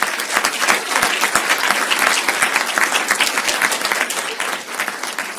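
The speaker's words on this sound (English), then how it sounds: "So please give them all a round of applause." Audience applause at a human relations awards ceremony: dense, loud clapping from a large crowd, sustained and even throughout, with individual sharp claps standing out from the wash.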